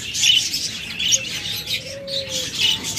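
A breeding pair of caged birds in full mating mode call close by, a repeated series of short chirps and tweets with soft cooing beneath and a faint tonal whistle.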